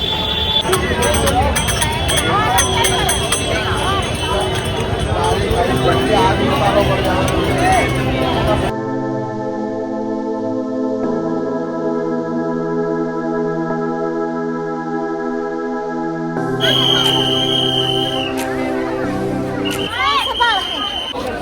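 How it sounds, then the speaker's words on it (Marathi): Dense crowd hubbub at Prem Mandir temple in Vrindavan on a packed holiday, a steady babble of many voices and footsteps, giving way midway to a calmer stretch of sustained tonal music before the chatter returns. "गर्दी खूप जास्त आहे प्रेम मंदिरात."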